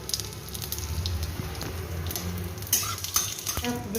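Two dried red chillies and panch phoron tempering in a little oil, a soft crackling sizzle with occasional spoon and pan clinks, fairly quiet and close, a few sharper pops near the end.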